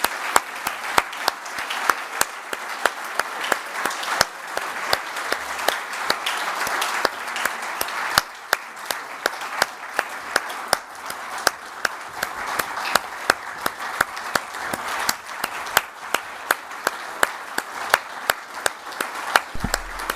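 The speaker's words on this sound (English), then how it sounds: "I think we should give all of them a big round of applause and recognize them." An audience applauds a group of award winners, a long, steady spread of many hands clapping at moderate volume with sharp individual claps standing out, continuing for the whole stretch without speech.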